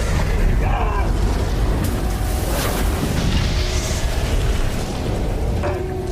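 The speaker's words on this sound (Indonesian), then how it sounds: "Sampai satu ledakan membuat punggung Hyongjo mengalami kebakaran" A deep, rumbling boom fills the scene with dense low-end noise, accompanied by crackling bursts and loud, continuous turbulence.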